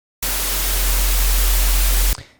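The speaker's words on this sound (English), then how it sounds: "White noise is literally random chaos" Synthesizer oscillator producing loud, dense white noise, a constant broadband hiss that starts abruptly, holds steady for about two seconds, then cuts off with a brief tail.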